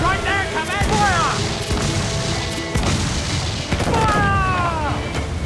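Broadside cannons boom in the pirate video game Assassin's Creed IV Black Flag. A loud, dense volley of blasts is joined by whistling shot and crashing battle noise.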